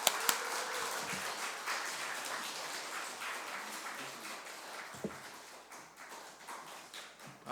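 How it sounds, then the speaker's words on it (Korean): Applause from a church congregation welcoming a guest pastor at a Friday prayer meeting, a steady broad patter of many hands clapping at moderate level for several seconds, gradually thinning toward the end. "크게 박수로 모시겠습니다"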